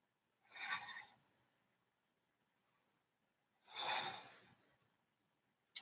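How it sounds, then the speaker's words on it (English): Two heavy, breathy exhales from a person panting during an intermediate yoga session, well separated and quiet, in an otherwise silent room. "Nice thing about the mic is you can hear that I'm panting too."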